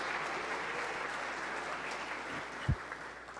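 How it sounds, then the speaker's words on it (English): Applause for graduates in a state senate chamber, steady moderate clapping from the room with one sharper thump near the end. "we can give them a hand"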